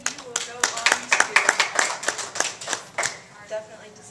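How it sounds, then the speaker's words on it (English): Applause from a spelling bee audience at a school, sharp separate claps scattered across the room in an uneven patter, with some overlapping voices, tapering off near the end. "definitely deserves a round of applause."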